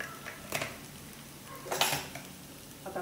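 A spoon scrapes and clinks against a pan while potato bhaji for a Navratri fast, seasoned with rock salt, is mixed, giving a few short metallic scrapes with quiet gaps between them and no talking.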